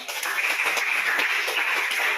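A room of participants clapping for a second student group during a class session, sustained even applause from many hands, fairly loud and unbroken from start to finish.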